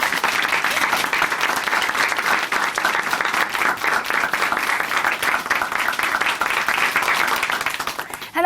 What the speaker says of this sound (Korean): 다시 한번 지수자매님께 큰 박수 보내드립니다.